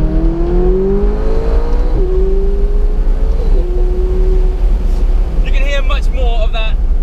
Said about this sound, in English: Much more of that excellent exhaust.